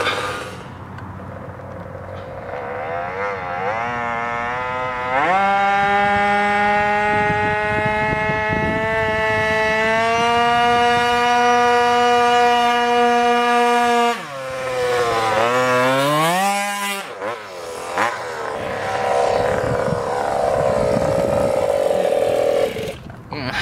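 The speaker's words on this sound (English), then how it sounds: "this 36cc motor made light work of pulling me up that hill" A GoPed XPED motor scooter with a 36cc two-stroke engine climbs a hill, its buzzing tone rising steadily in pitch as it labours upward, dipping briefly mid-climb before revving high again, loud and close throughout.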